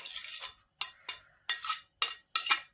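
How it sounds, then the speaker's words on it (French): Chopped vegetables, onion, tomato and bell pepper, are tipped from a dish into a salad mixture in a series of about six sharp scraping, clinking bursts separated by short pauses, close and fairly loud. "nous allons verser tout ça dans notre mélange"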